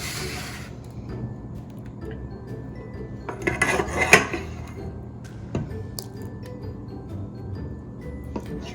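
Hot broccoli cheddar soup is ladled into a warm bread bowl with clanking metal utensils and pot sounds, a brief burst of clinks midway, and soft wet sloshing, close by and without talk.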